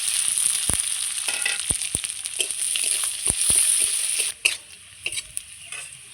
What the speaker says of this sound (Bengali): ফোড়নে দিয়ে দিচ্ছি ওই তেলে তেজপাতা, একটা শুকনো লঙ্কা, একটা পেঁয়াজ কুচানো,